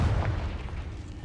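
A Confringo blasting spell goes off in Hogwarts Legacy as a brief, deep explosive boom with a heavy low rumble that quickly decays, with no voices.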